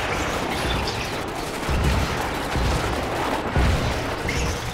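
Dense, loud gunfire rattles continuously in the Kane's Wrath strategy game as a base comes under attack, with heavier thuds punching through the barrage.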